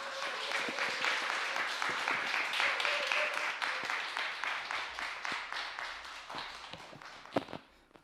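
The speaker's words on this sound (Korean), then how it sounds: "큰 박수와 또 환호로 우리 목사님 환영하도록 하겠습니다." Church congregation at a Friday worship service applauding to welcome a pastor, steady broad clapping that gradually thins into scattered claps, with some voices underneath.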